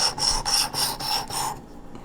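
A broadhead is scraped back and forth in a sharpening contraption, about six rhythmic rasping strokes close up over two seconds, then quiet.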